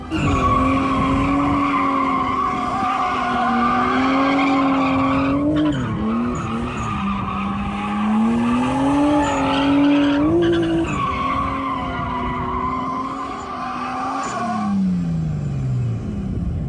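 A Pontiac Solstice drift car roars with a strained, wavering engine note while its tires skid and squeal continuously, loud and close, with brief dips as the revs shift before climbing again.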